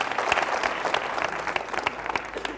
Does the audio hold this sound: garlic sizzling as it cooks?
no